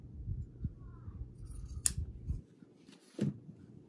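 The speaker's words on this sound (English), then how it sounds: "we'll just trim off this extra down here" Scissors snip off excess material from a handmade snow gnome craft, with a couple of crisp, close cuts standing out over low rustling handling noise.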